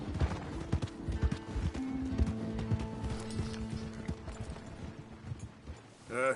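Horse hooves clip-clopping in Red Dead Redemption 2, a brisk, close, steady rhythm of hoofbeats with faint background game ambience and a brief swell near the end.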